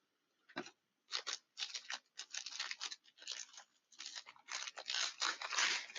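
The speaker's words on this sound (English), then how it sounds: "she uses some good tape, so give me just a second to cut that" Packing tape on a mailed package of books is cut and pulled, giving a run of close, sharp rasping and snipping bursts in quick irregular succession with short gaps, fairly loud and without any talking.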